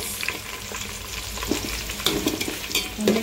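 Onions, green chillies and carrot fry in oil for biryani, a loud close sizzle with repeated scraping and clinking of a spatula against the pan, steady and without speech.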